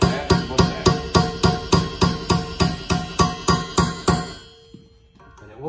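Steel chisel struck repeatedly with a hammer to knock off a crankshaft wear sleeve: about a dozen sharp, ringing metallic blows at a steady quick rhythm, close and loud, then a brief quiet tail.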